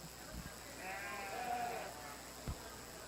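A single drawn-out bleat from a Cheviot yearling ewe at a breeding sheep show, heard at moderate distance over a hum of background crowd and thumps.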